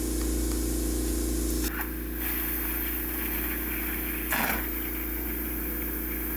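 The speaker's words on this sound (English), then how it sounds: "We're gonna do low air volume and bigger trigger pull." A texture spray gun with low air volume and a larger trigger pull blasts orange peel texture onto a wall, giving a loud steady hiss over a compressor hum that briefly cuts out twice.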